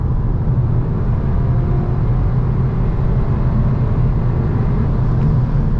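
Steady loud engine drone of a 2022 Skoda Karoq with the 2-liter TSI at full throttle, heard from inside the cabin with no artificial speaker sound, a dense continuous low rumble and road roar held throughout without talk.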